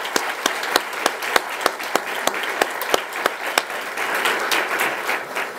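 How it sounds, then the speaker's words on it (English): A crowd gives a warm round of applause, steady dense clapping with sharp individual claps popping out near the listener, lasting several seconds without speech. "Let's give Charlie another big round of applause."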